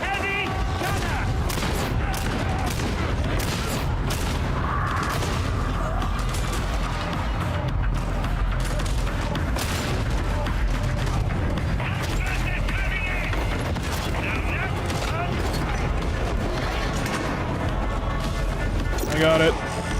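Heavy gunner enemy opening fire in the co-op shooter Warhammer 40,000: Darktide, a loud sustained barrage of rapid gunfire with booms and mechanical clatter running the whole time under voices and game effects.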